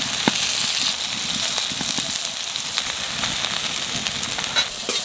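Aubergine slices seasoned with salt and turmeric fry in a pan, giving a steady, close sizzle dotted with small crackles and pops.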